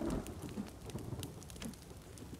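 Steady rain falls in The Forest video game, a soft continuous patter of drops with faint, quiet background rumble and no talking.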